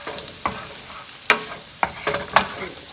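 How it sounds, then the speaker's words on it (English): Onions and peppers sizzle in a frying pan while a utensil stirs them, giving several sharp scraping taps over a steady hiss, close and clear, with no talking. "That my onions and peppers are getting cooked too."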